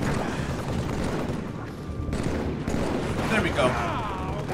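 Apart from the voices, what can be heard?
gunfire in Halo 3 video game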